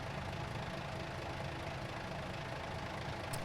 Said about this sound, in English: By the Kenworth T680, it has new engine sounds for F-mod.